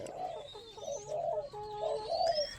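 Zebra doves coo in soft, rolling trills, several short phrases in a row, close by and fairly quiet with a faint high whistle in the background.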